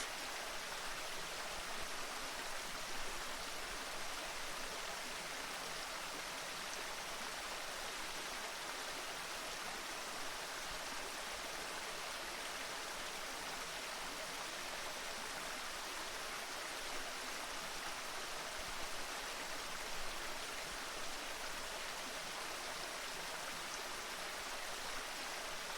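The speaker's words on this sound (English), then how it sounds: "Listen to the sound of the water as it flows down the stream." Continuous, even rush of water flowing down a stream, soft and steady with a hissing, broadband texture and no breaks or voices throughout.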